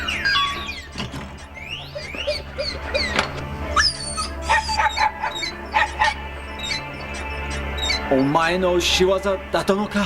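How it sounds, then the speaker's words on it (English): A dog barks and yips in a survival horror video game's bonus ending, with several sharp bursts over steady low music, while a narrator talks throughout. "It's a dog, baby!"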